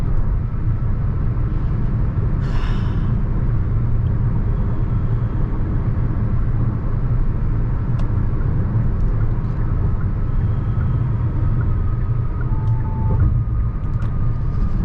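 Inside a Hyundai Alcazar 1.5 turbo petrol DCT cruising on a highway around 100 km/h at about 1800 RPM, a steady low drone of engine, road and wind noise fills the cabin without letup.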